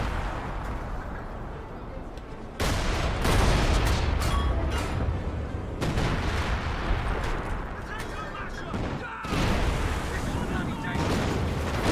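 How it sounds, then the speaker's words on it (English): A coordinated artillery barrage in the video game Company of Heroes 2 rumbles as dense, overlapping booms and blasts that roll on for several seconds, loud and continuous. "Looks like the coordinated barrage is coming on in by the sniper."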